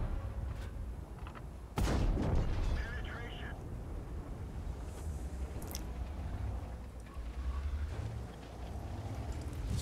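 A World of Tanks tank gun fires once as a sharp, loud boom early on, followed by a decaying rumble beneath steady game ambience, with a voice talking throughout.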